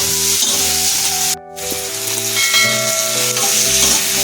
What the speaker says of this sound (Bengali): এটা একটু ভাজা হোক তারপরে দিচ্ছি